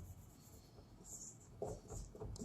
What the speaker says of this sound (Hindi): इसको मैं मिटा के लिखता हूँ